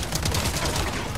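A TMP submachine gun fires in the Resident Evil 4 Remake, a short dense burst of rapid shots heard over game background noise.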